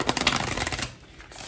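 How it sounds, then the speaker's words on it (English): Tarot cards are shuffled close up in a quick burst of rapid riffling flutters that then settle into softer handling. "Shuffle these cards"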